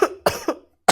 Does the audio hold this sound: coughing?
yes